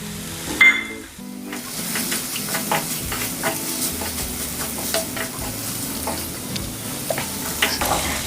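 Sliced coconut stirred and roasted in a hot pan for horse gram sambar, with a soft, steady sizzle and repeated scraping strokes of a spoon against the pan. A louder clink of metal sounds near the start.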